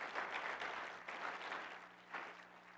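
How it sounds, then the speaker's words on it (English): At a community breakfast, a crowd applauds a police commissioner, a soft, distant wash of clapping that swells and fades in waves. "Let's give him a round of applause."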